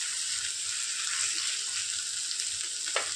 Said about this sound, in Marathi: लगेचच टोमॅटो घालते. टोमॅटो छान सॉफ्ट करून घ्यायचं आहे